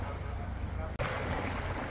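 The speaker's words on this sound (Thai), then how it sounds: "ฟังเสียงคลื่นนะครับ" Continuous roar of surf and breaking waves mixed with gusty wind buffeting the microphone, loud and close throughout.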